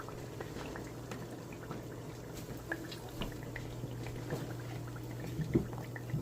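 Café du Monde beignets fry in hot oil, a quiet, continuous bubbling sizzle with scattered small pops and crackles, heard close with a low hum underneath.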